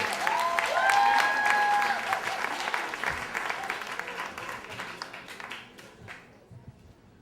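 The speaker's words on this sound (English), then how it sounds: "a big round of applause for our next storyteller, Julia Wiedeman." An audience at a Moth storytelling event applauds as the next storyteller comes up, with a dense burst of clapping and a few whistles that gradually thins and fades out.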